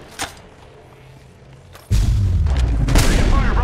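Heavy gunfire and a booming blast in Apex Legends Mobile, a faint thump early on followed by a sudden loud sustained barrage of shots and rumble.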